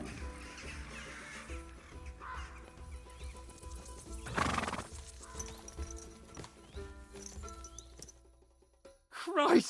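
In the video game Kingdom Come: Deliverance II, a horse clip-clops along and lets out a burst of whinnying midway, under tonal game music with voices nearby.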